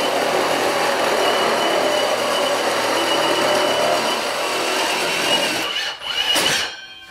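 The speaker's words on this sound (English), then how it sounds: "now he's ready to start drilling the holes for the pipe to go through." A power drill bores a hole up through a garage floor into the basement for a home radon removal pipe. The whirring grind runs steady and loud, then cuts off near the end.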